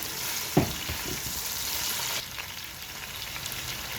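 Onions, carrots, potatoes, peas and green chillies sizzle softly in a pan, a steady low crackle with a sharp clatter near the start as more vegetables go in, then a quieter fry.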